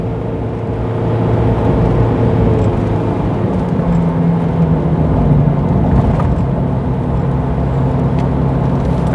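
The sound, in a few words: van engine revving up a hill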